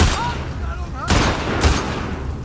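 Two sharp bursts of gunfire in The Last of Us Part II cut through a busy mix, with faint chatter and ambient effects between the shots.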